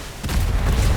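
Cannon fire from a ramming galley in the naval game ATLAS: a single deep, loud boom that swells from low rumble and sustains to the end of the brief moment.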